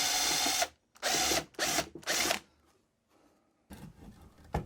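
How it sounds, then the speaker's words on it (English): Four short bursts of a power drill whirring close up as rivets are drilled out on a Triumph TR7 cabin heater, separated by brief pauses, followed by a quieter mechanical rattle and clatter. "And then I had to drill out some rivets again."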